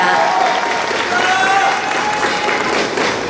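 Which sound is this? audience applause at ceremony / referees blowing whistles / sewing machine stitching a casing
audience applause at ceremony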